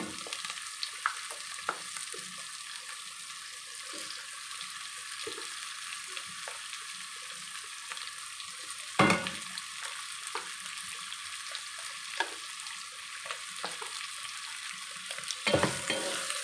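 Small-cut potatoes and peas frying in a pan, a steady hiss of sizzling oil broken by scattered scrapes and a few louder knocks of the spoon as they are stirred.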